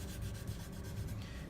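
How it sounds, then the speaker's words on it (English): Sandpaper rubbed steadily across a primed and painted workshop piece shaped like a wrench, smoothing out a ripple; a continuous close scratchy rasp with slight rhythmic strokes, heard alone. "now I can go back in and sand that out"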